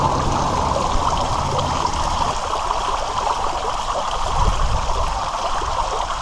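Steady rushing water pours continuously, a broad constant roar with splashing texture and no voices, like a waterfall flowing close by.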